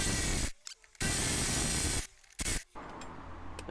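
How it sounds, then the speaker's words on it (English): An impact gun works on the bumper bolts of a Mini R56-series car, firing three loud, close bursts of hissing, rattling power-tool noise separated by short pauses. "You don't need an impact gun, it's just I've got one to hand."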